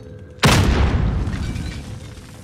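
A frag grenade detonates in the Warzone battle royale game, one sudden loud boom followed by a rumbling decay that fades over about two seconds.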